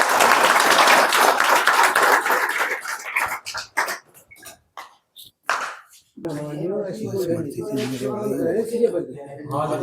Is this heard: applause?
yes